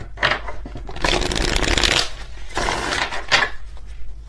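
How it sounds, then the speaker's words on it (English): A deck of tarot cards being shuffled up close, with two bursts of rapid riffling and flapping: a longer one in the middle and a shorter one near the end, separated by brief pauses. "Let's do one more shuffle just in case."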